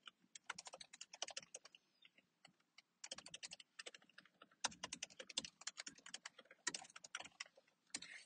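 Rapid bursts of typing on a computer keyboard as Python code is written, close and crisp clicking in uneven runs with short pauses between them, no voice.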